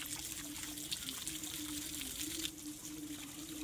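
Water poured onto a cracked house wall to soak it before patching: a soft, continuous trickle and splash, faint and close, running steadily with no voices.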